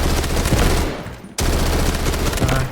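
Rapid automatic fire from a P90 in the shooter game Delta Force, loud and close, with a long burst that pauses briefly and then resumes.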